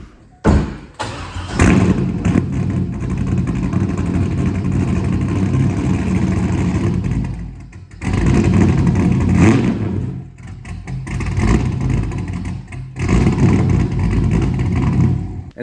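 A C5 Corvette's engine revs up close in bursts as the car backs slowly onto ramps, with heavy thuds and rumbling between pauses.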